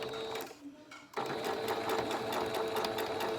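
A sewing machine runs steadily, stitching through the layers of a fabric medical mask, its rapid needle clatter pausing briefly near the start before resuming a fast, even rhythm close up.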